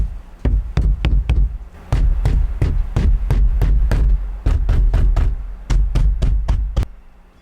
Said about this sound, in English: I'll bang on the windows in various places on the Model X